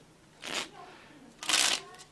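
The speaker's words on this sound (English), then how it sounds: "You cut and then you go right into the shuffle, maintaining their card on top." A deck of playing cards is shuffled close up during a card magic trick, making two short crisp riffling bursts separated by a brief pause, with no talk.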